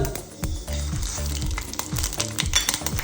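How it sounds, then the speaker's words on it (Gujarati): Sesame seeds popping in hot oil, a Gujarati tempering for sandwich dhokla: loud close frying hiss dotted with quick pops and rhythmic scraping stirs of a spoon in the pan, no voices. "આપણે તલ ઉડવા માંડ્યા."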